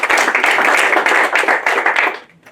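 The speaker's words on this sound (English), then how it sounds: "And round of applause." Audience at a youth certificate felicitation event applauding, close and loud dense clapping that tapers off at the end.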